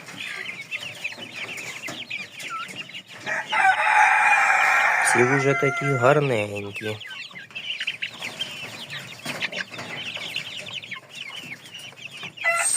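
Fluffy-feathered chickens and older chicks cluck and chirp steadily, fairly close, with a brief rooster-like crow in the middle and someone speaking softly over them.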